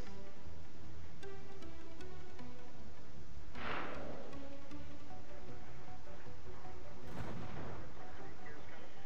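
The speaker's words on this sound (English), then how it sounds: "launch our torpedoes, and leave." Torpedoes launch in the Xenonauts strategy game, two muffled booming whooshes a few seconds apart over a steady low game rumble, with no talking.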